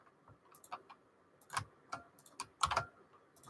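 Clacky typing on an IBM Model M keyboard, irregular loud key strikes with heavy buckling-spring clicks and a few quick clustered presses, close and alone.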